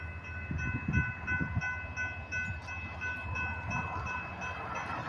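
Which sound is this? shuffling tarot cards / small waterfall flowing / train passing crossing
train passing crossing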